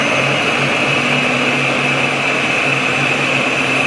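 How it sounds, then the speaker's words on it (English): A blender grinding beef chorizo into a paste, a loud, steady, high motor whir that holds unchanged throughout. "our last step is to blend it till everything turns into like a paste consistency"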